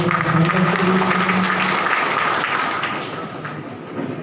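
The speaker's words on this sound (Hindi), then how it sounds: "चिंतामणि महाराज जी, जोरदार ताली बजाकर स्वागत करें।" A crowd at a BJP party workers' conference claps loudly to welcome a guest; the steady applause runs throughout, softening toward the end, with a voice briefly heard under it at the start.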